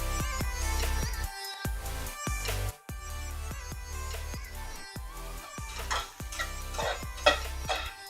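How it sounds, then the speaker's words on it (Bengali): Okra being stir-fried in a pan, with repeated scraping and stirring strokes and clinks of the utensil against the pan over a soft sizzle, recorded close and at moderate volume. "ঢেঁড়স ভাজি প্রায় হয়ে গিয়েছে।"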